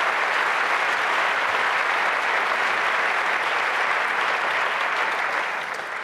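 Sustained, dense applause from a large audience at a closing event of a hacker congress, loud and steady throughout with no talk over it, tapering slightly at the very end.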